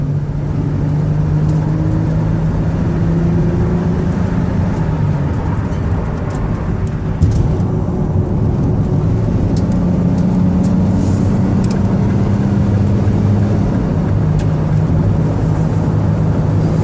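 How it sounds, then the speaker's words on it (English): A 2008 Chevrolet Uplander wheelchair van with 105k miles has its engine revved, the low drone rising and falling through several swells of throttle, close and loud with no talking over it. "I'm going to give the van some gas. I want you to hear it run."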